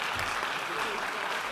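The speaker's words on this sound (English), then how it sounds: "Please give him a round of applause." Steady round of applause from a keynote audience at a business forum, dense and even throughout with no pauses, heard from within the hall.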